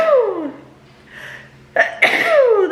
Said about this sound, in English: The pollen is so bad right now, and I cannot stop sneezing.